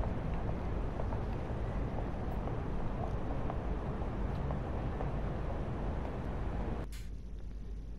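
A steady low Scania truck engine drone in a truck simulator video game, with broadband rumble throughout, then drops sharply near the end to a quieter hum.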